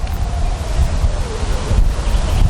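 Strong wind blows across an open golf course with a 20-yard-wide fairway, a steady broadband rushing roar with gusty low-end buffeting on the microphone, continuous and loud throughout.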